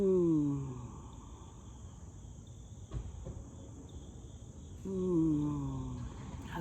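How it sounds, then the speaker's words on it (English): Cicadas or katydids drone in a continuous high-pitched buzz from nearby trees, steady throughout, with faint low sounds and brief knocks underneath. "Hopefully y'all can hear the cicadas or the katydids."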